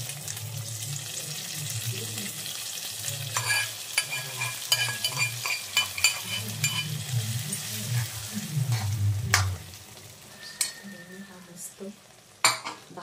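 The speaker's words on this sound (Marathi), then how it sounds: "असा हा भात शिजल्यानंतर ही फोडणी ह्याच्यामध्ये ओतावी" Hot tempering is poured into cooked leftover rice and stirred in a pan, giving steady close scraping and stirring over a soft sizzle, with sharper spoon clicks along the way and a quieter stretch near the end.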